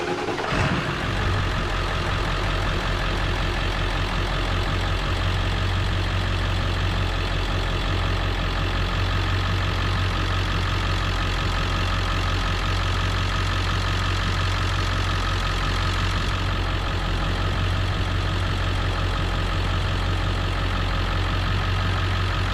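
A Ford 7.3 Powerstroke diesel idles steadily after a coolant filter install, a loud, continuous low rumble with an even knocking beat that holds unchanged throughout, no voices.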